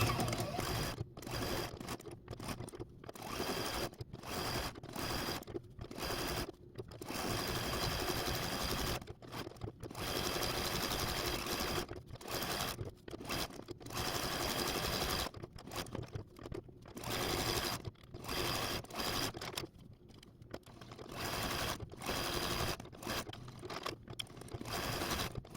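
Sewing machine stitching appliqué stems onto a quilt block for a flower box and beehive design, running in repeated bursts of steady mechanical whirring and needle clatter with brief pauses between runs.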